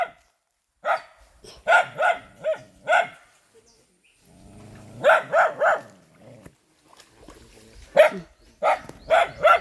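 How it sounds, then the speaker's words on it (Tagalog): Bursts of dog barking in quick clusters, loud and close, with short quiet gaps and a low rumble between groups. "Aso"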